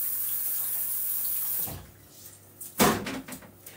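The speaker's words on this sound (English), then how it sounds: "Oh, hang on, I need to wash them." Running tap water at a kitchen sink while Asian greens are washed, a steady broadband rush for the first half, then a pause and a sharp splash or clatter followed by softer trickling.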